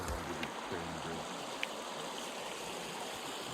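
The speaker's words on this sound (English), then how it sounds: "this beautiful little river flowing under the crane bridge" A small river flows under a bridge at the end of a secluded trail, its steady broadband rush filling the clip with a faint low rumble early on.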